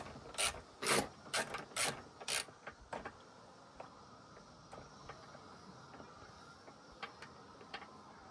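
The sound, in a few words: ratchet loosening clutch cover bolts on Yamaha WR125R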